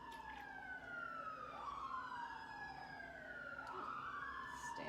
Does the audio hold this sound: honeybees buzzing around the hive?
no